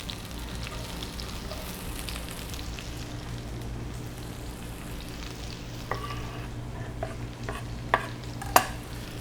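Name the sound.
onions frying and being stirred in pan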